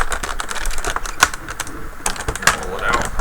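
Rapid, uneven keystrokes on a Microsoft Internet Keyboard Pro click and clack close by, with a few sharper, louder key hits standing out from the continuous patter.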